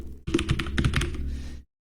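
Rapid keystrokes clatter on a computer keyboard in a burst of a dozen or so clicks, close and clear, stopping abruptly into silence, while entering a font name in Microsoft Word.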